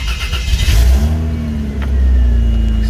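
A Toyota Land Cruiser FZJ80 engine with an exhaust leak revs up loudly, then settles into a steady, throaty idle. The engine sound is close and continuous throughout.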